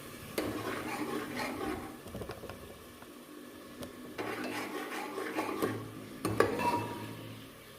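Tomato mixture roasting in a pan for aloo matar, with a spoon scraping and stirring against the metal in irregular bursts over a low sizzle, close and moderately loud, with no talk.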